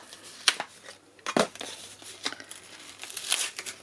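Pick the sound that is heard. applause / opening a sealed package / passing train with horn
opening a sealed package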